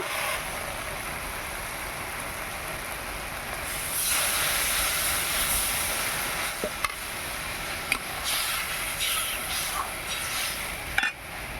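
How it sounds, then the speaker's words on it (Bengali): Silver carp curry broth with mustard masala boiling in a covered pot gives a constant, loud steamy hiss with a few faint ticks and pops, and no talk. "ঝোল ফুটছে"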